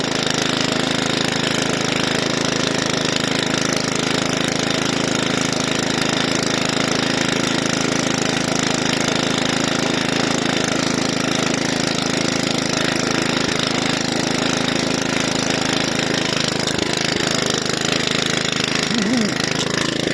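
An Oleo-Mac 155k cultivator engine tilling between rows of peppers in a garden: a steady, loud, rattling engine drone runs unbroken for the whole stretch, close by.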